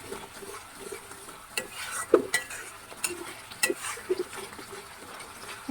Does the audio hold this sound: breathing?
no